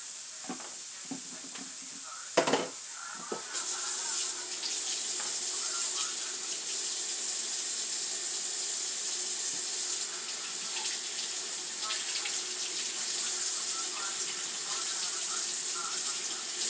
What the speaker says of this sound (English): Let's wash the fork.